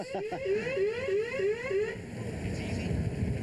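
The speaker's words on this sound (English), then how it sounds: "Listen to the burglar alarm." Repeating rising electronic whoops of a burglar alarm, five or six quick sweeps that stop abruptly, leaving a low rumbling background, near fishing boats in New Bedford.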